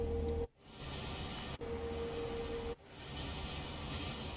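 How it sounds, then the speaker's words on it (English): Diesel engine of a Vossloh G6 locomotive in a train simulator game, a steady low droning rumble broken by a few brief dropouts, alone with no talk. "Nice engine sounds."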